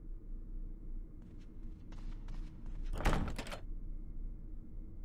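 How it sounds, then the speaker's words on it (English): A door opens in the Resident Evil HD Remaster video game, a single loud thunk with a creak around the midpoint, set over a low steady ambient drone with faint footsteps before it. "Go try to open more doors."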